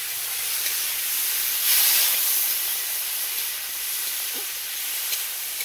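Shrimp frying in mustard oil gives a steady, bright hissing sizzle throughout, swelling briefly louder in the middle, with no talk.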